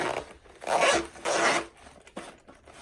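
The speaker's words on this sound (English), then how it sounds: "the box comes with a zipper just as any goalkeeper glove" A zipper on a goalkeeper glove box is pulled open in two quick, close, raspy strokes, followed by a soft rustle and a brief click.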